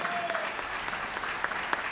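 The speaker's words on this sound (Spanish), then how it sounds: "un fuerte aplauso para él" Audience applause for a pianist at an outdoor concert in Plaza del Buen Suceso, Ingenio: dense, fairly loud clapping with a few distinct sharp claps near the end.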